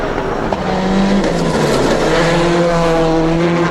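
A rally car on studded winter tyres drives an icy mountain road during Rally Monte Carlo 2006, its engine holding a steady, loud, close drone with rising and falling pitch, without talk.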